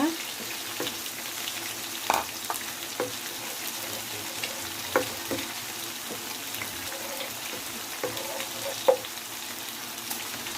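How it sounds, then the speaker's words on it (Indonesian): Steady crackling sizzle of small anchovies frying in hot oil, with occasional pops and light clinks of stirring, no talking. "Kita goreng dulu terinya."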